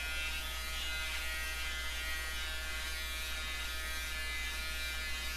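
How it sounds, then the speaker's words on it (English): An old electric razor, about forty years old, buzzes steadily and loudly in a hospital ward in Japan, a constant close-up drone with no pauses and no talking. "the first thing he did when he woke up was to break out his 40-year-old electric razor"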